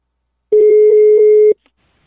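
A telephone line tone during a prank call, one loud steady electronic beep lasting about a second, clean and close with no voices.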